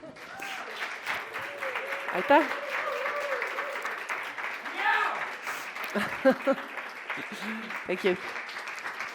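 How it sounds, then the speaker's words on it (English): Applause from a workshop audience carries on for several seconds, fairly close and moderately loud, while people speak and a few brief chuckles come through over the clapping. "if we give them both again a nice round of applause"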